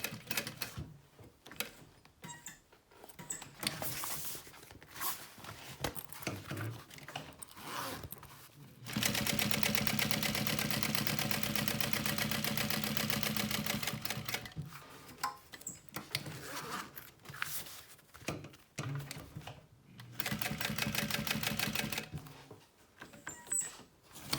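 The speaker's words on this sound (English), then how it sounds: "we're gonna go ahead and sew around the box" A sewing machine stitches around the box seam on a shoulder bag panel, running in a steady whir for several seconds between shorter bursts and pauses with fabric handling noises.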